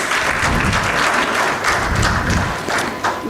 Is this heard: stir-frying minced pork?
no